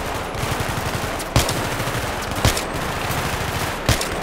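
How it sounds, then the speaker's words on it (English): Machine gun fire in the Battlefield 3 campaign, a continuous rattling stream of rapid shots with a few louder impacts standing out, loud and close, with no speech. "God dang, where they shooting at, man?"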